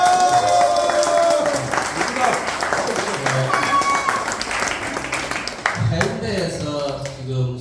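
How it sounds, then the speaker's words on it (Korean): Applause and scattered clapping from a room full of people at a school graduation anniversary and teacher retirement gathering, steady throughout, with voices and cheering mixed in near the end. "일어나면 환영의 박수를 좀 부탁드리겠습니다."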